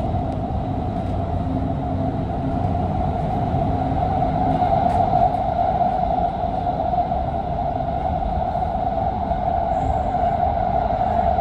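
Steady rumble and hum of a Doha Metro train from the front seats of the gold class carriage, a continuous loud drone with a strong tonal whine running unbroken throughout, no talking.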